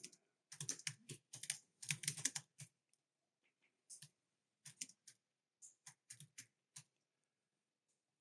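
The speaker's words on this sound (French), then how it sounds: "vous allez taper un titre" A computer keyboard is typed on in quick bursts of clicking keystrokes, close and fairly quiet, with short pauses between clusters in an otherwise silent room.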